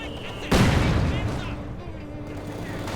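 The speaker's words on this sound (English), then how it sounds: "Panzer just got pushed back rather forcibly here by the Guards Infantry using their grenades and the light machine guns" Machine gun fire and grenade blasts in a WWII strategy video game, a sudden loud burst of gunfire that rolls into a dense crackling barrage and slowly fades.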